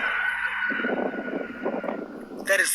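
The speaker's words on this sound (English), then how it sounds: "But that noise is actually a chimney from a factory or something." An eerie, loud wailing from the sky, thought to come from a factory chimney vent, holds as a steady high drone for about two seconds while people talk over it.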